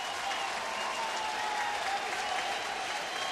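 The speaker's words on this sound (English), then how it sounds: "now these fans have something to cheer about" Baseball stadium crowd at a Cardinals home game in St. Louis applauding and cheering, a dense, steady roar of clapping and voices that holds at an even level throughout.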